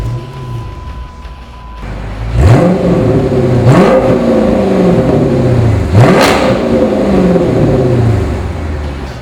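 A 2006 Dodge Magnum SRT8 V8 starts up and settles into a loud idle, then is revved three times in sharp bursts that drop back down, all close and with no talking.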